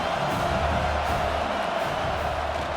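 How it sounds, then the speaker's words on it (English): Home crowd in College Football 26 roaring on a third-down defensive stand, a dense, steady wall of cheering and whooping that stays loud without a break. "Here comes this home crowd as the defense tries to get off the field on third down"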